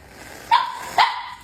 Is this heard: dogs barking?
yes